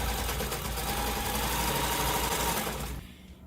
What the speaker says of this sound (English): So I'm just going to remove the pin, back stitch, and I'm just going to stitch straight down.